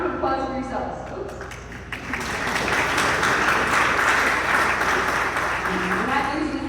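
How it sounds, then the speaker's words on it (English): Applause from a dinner audience swells after a man's spoken remarks, rising to a full, steady clapping that carries on to the end, with speech heard near the start. "what a beautiful round of applause for yourselves."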